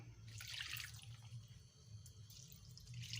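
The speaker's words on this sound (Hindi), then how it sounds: "हम इसमें डालेंगे 2 गिलास पानी।" Water pours from a glass onto grated carrots for gajar ka halwa, a faint, steady liquid splash and trickle heard close up with no talk.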